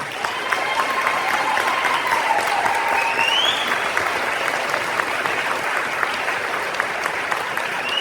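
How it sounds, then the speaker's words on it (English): An audience at a high school Veterans Day ceremony applauds staff veterans, a dense, loud, sustained clapping that fills the room without a break. "Let's give them a round of applause."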